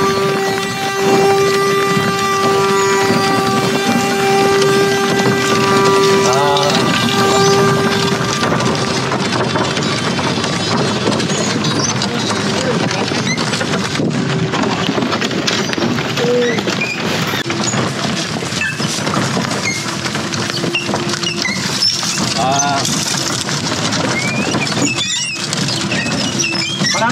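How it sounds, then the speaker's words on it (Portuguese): Wooden wheels of an ox cart creak in a long, shrill singing whine that rises and falls continuously, loud and close, with rough rumbling and scraping beneath on the way to a farm in Cambuí. "já dá para escutar o carro cantando lá"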